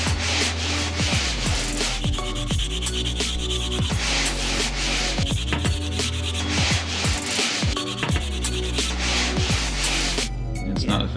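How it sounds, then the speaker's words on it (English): Steady hand sanding on cracked carbon fiber epoxy in a Porsche 996 interior, continuous rasping strokes over a constant background hum, with faint talk at moments. "we'll keep sanding on this until all of our cracks are gone"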